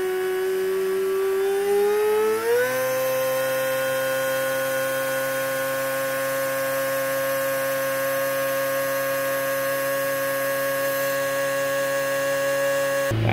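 A Suzuki Swift engine rises briefly in pitch, then holds a steady, loud, tonal drone at about 2500 RPM, continuous and unbroken with no talk.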